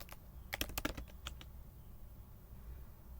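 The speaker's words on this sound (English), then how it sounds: "then we type code dot to open the VS Code" A computer keyboard clicks quietly as a short command is typed, a quick cluster of keystrokes followed by near silence.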